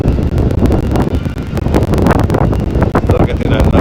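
Strong gusting wind buffeting a handheld microphone outdoors after a storm in the Dartmouth area, a loud continuous rumbling roar with irregular gusts throughout, no talking.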